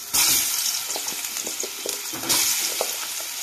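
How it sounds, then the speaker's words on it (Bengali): Potatoes sizzle loudly as they drop into hot oil in a kadai over a high gas flame, a steady bright frying hiss with a burst at the start and another swell midway, plus scattered pops and crackles. "আর তেলটা গরম হয়ে গেছে, এবার আলুগুলো দিয়ে দেব।"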